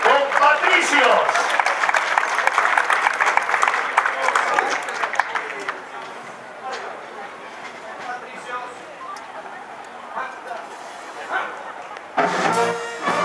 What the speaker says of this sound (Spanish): Fuerte el aplauso para estos músicos.